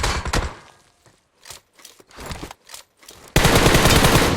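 Gunfire in PUBG Mobile comes in several short, sharp bursts with pauses between them, then breaks into a loud, continuous automatic volley at the end, with no talk.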